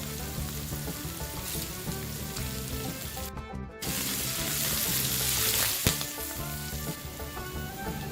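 Fennel seeds, fenugreek seeds and curry leaves frying in a wok of hot oil for a spicy squid sambal, making a dense, loud crackling sizzle that keeps going over music, with a brief break partway through.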